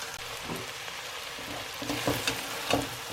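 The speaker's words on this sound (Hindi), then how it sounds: "सब्जियाँ डाल के इसे भूनूंगी।" Vegetables fry in an oily pan for pav bhaji, giving a soft continuous sizzle with a few louder stirring scrapes and crackles toward the end, close and quiet, with no talking.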